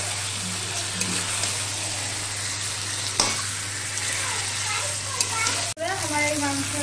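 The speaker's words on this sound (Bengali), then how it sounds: "মশলাটা যখন কষাবেন মিডিয়াম আঁচে রেখে কষাবেন" Masala sautéed over medium heat for kabuli chicken, a steady close sizzle of frying with a spoon scraping and stirring through it, a sharp clack near the end.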